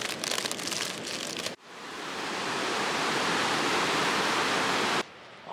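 A waterfall seen on a forest hike roars as a steady wash of broadband rushing water, strong and close. The sound swells in after a short break and cuts off abruptly near the end, with no voices over it.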